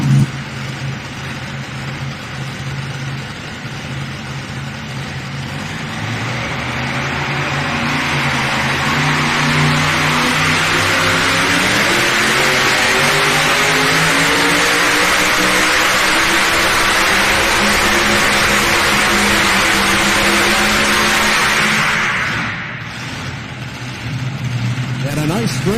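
At a truck and tractor pull in Shelbyville, Tennessee, a pulling truck roars loud and close through its pass. The engine climbs in pitch, holds a sustained bellow, then drops away near the end, with a voice faintly heard beneath it.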